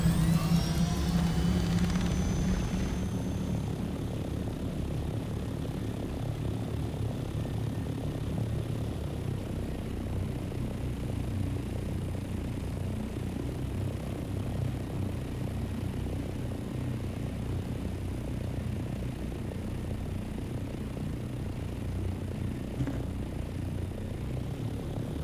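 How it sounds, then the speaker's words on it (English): An ornithopter flies in Dune: Awakening, its steady droning engine and rotor noise holding a constant, fairly loud level for the whole stretch after a brief swell at the start, with no talking over it. "Get to the chopper!"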